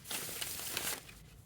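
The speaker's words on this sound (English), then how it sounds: "these are the only ones I'm shuffling on camera" Tarot cards being shuffled by hand, a dense papery riffling and crinkling that runs steadily for about a second before trailing off into quieter rustles, close and fairly soft.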